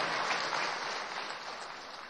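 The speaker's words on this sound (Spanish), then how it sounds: "dámosle un aplauso a Cilita" Audience applause for Cilita at a school-year opening ceremony, a dense wash of clapping that fades slightly over about two seconds.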